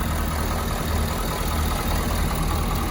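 A 2019 Ford F-550 Super Duty 4x4 with a 6.7-liter V8 diesel idles close by, a steady low rumbling drone with a faint ticking clatter and no talking.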